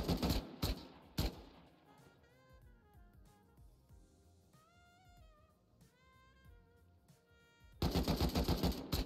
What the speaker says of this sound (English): So just shoot at his body.